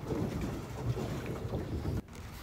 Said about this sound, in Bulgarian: ето качихме се в лодките